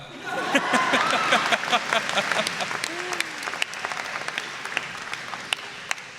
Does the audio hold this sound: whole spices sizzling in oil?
no